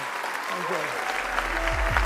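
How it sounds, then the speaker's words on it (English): An audience at a talk claps, and the steady applause continues throughout as a faint voice talks underneath. "And now you can give us a round of applause."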